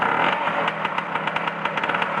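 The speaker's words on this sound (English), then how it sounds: "So once it fires up, give it a little revs and allow it to pick up." A Lambretta scooter engine idles just after starting, a steady mid-pitched running note with rapid, even firing pulses, loud and close with no voices.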